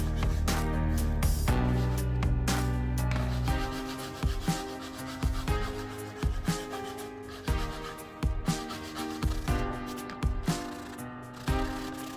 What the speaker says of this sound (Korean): 400에서 600방 정도의 사포가 되고요 요철이 최대한 없게 갈아내면 돼요